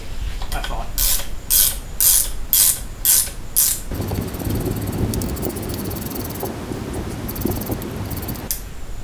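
A wrench ratchets in quick repeated bursts on a spring compressor during strut work on a 2005 Mini Cooper, followed by a rougher continuous grinding and clicking as the tool keeps turning.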